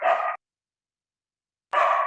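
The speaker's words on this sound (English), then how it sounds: "my dogs are making a noise" Two short dog barks separated by a second of silence, each a sharp, mid-pitched woof heard fairly close and clear with no talking.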